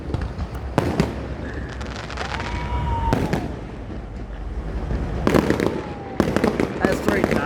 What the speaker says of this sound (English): We got some ghost town fireworks.